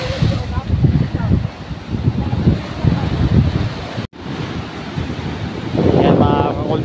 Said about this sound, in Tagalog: medyo malakas na yung alon dyan.